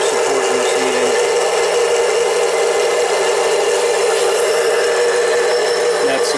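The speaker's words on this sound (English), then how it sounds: "That's the 710 mini lathe. Using the automatic feed." A Harbor Freight 7x10 mini lathe on automatic feed, taking a light four-thousandths cut in 304 stainless steel with a live center supporting the work: a steady, loud motor whir and hum with an even hiss throughout.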